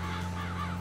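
A single crow caws in Farming Simulator 22, one short rasping call over a steady low hum from the game audio.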